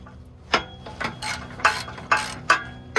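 Loosening a bolt on the axleback exhaust of a first-generation Subaru BRZ, Scion FR-S or Toyota 86, heard as a close series of about six sharp metallic ratcheting clicks at an even rhythm.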